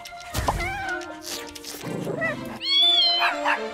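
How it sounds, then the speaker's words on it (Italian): Cartoon kittens meowing in a children's animated show, several bright drawn-out mews near and clear, with a character speaking at the start. "E anche dei gattini, per favore?"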